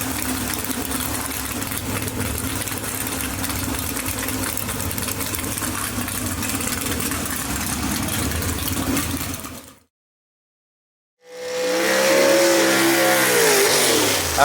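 A Southern Flyer 1931 Model A gasser race car revs and accelerates hard, a loud, gritty mid-pitched engine roar that breaks off into a moment of silence, then returns with a rising rev.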